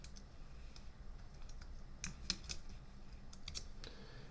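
Typing a command on a computer keyboard while drafting a 3D shop model in AutoCAD; quiet, irregular key clicks tap out over a faint steady background, with a slightly louder cluster of strokes midway.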